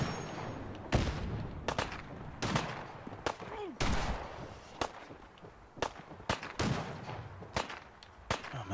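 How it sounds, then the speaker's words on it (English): Machine gun fire in the video game Fallout 4: sharp, loud shots crack out one at a time or in short clusters at an uneven rhythm, with roughly a dozen reports spread over several seconds. "Who's shooting at me with a machine gun?"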